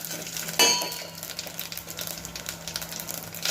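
Ajwain seeds tempering in hot oil with dried red chillies, a steady close sizzle and crackle with a sharp clatter early on, no voices.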